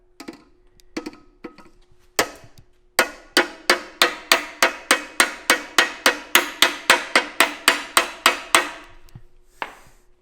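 A long run of sharp, evenly spaced light hammer taps on a Miata engine during cylinder head work, close and crisp, about twenty strikes in a steady rhythm after a few scattered hits.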